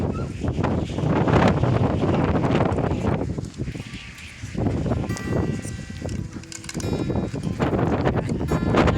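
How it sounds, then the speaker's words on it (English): Strong gusting wind buffets the microphone outdoors around a free-range chicken yard, loud and continuous with a brief lull midway, while faint animal bleats and rattling sit underneath. "The wind is getting really bad. You see this wind?"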